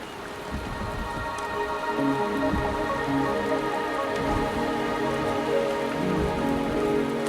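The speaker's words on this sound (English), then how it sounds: "The rain is subsiding," Rain pours steadily in the Wuthering Waves video game, a dense wash of drops on hard surfaces with low rumbling underneath. It holds constant and fairly loud throughout, with no voices.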